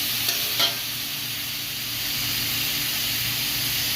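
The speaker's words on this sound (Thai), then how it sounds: "ผัดไปเรื่อย ๆ ก่อนนะคะ" Zucchini and egg stir-fry in a pan, with a steady broad sizzle and a couple of brief utensil scrapes near the start, no voices.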